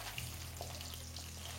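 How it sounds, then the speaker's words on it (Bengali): Hilsa fish fry in hot oil over low flame, a soft, even sizzle that holds steady through the short moment, fairly quiet and heard alone without voices. "গরম হয়ে গেলে ফ্লেমটাকে লো করে একে একে মাছগুলোকে দিয়ে ভেজে নিন।"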